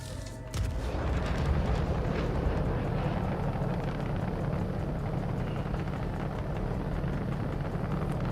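Torpedoes firing from an Aegis ship in Star Citizen make a sustained low rumbling roar at steady volume, following a brief quieter start, with no talk.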